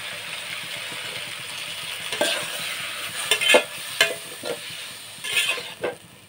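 Three large tomatoes fry in a pan while a spoon scrapes and taps through them, giving irregular sharp clinks over a soft continuous sizzle, close up, with no voices.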